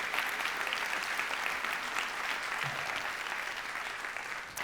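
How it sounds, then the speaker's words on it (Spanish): Church congregation clapping together, a dense steady roar of applause filling the room, loud and continuous from start to finish. "vamos a aplaudir todos juntos en el nombre del Señor"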